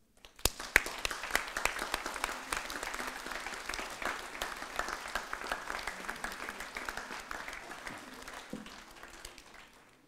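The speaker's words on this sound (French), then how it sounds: "Je veux des applaudissements pour eux." An audience at a town hall New Year's greetings ceremony in Saintry-sur-Seine breaks into dense, sustained applause that swells quickly and then slowly thins out over about ten seconds.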